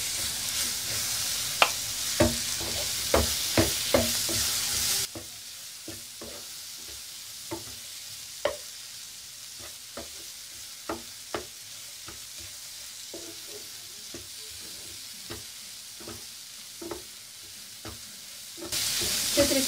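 Finely ground spiced peas fry in a pan for hari matar kachori filling, with steady sizzling and frequent sharp scrapes of a spoon stirring, louder in the opening seconds and continuing alone without voices.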